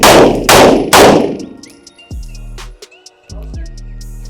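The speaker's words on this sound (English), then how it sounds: "I want you to do 6 shots as you're moving forward" Handgun shots at a shooting range, three loud, sharp reports in quick succession close by, followed by quieter ringing and clanking sounds.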